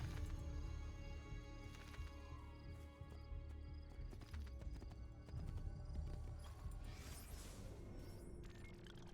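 Horse hooves clip-clop steadily with a whinny from the animal in the video game Assassin's Creed 2, set over a continuous busy background mix of game music and ambience.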